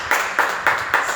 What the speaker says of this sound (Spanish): un aplauso, algo